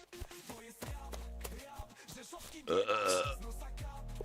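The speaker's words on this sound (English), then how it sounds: "I hit a burp key by mistake." A burp sound effect set off by a keypress sounds once, loud and close, with a wet, rising croak that stands out from the faint room noise around it.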